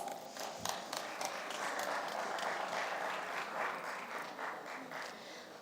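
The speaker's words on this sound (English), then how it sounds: "Please give all our speakers a round of applause." Audience applause at a supply chain conference and awards event in the Middle East, with steady dense clapping from a sizable crowd that holds throughout without speech.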